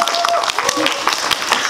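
Steady applause from an audience at a film screening with a Q&A, a dense, continuous patter of many hands close by, with some crowd noise underneath.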